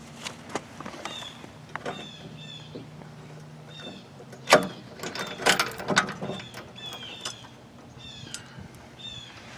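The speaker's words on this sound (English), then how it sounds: "I'm going to go ahead and take that off, which is just removing the pin." The pin comes out of a skid plate jack foot on a DLC flip foot jack with a series of close metallic clicks, squeaks and short rattles, some sharper clanks near the middle.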